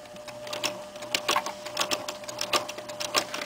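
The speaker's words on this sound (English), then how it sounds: "on the single needle machine, we can do this" A single-needle sewing machine stitches along a cuff edge in quick irregular bursts of rapid clattering, close by, over a faint steady motor whine.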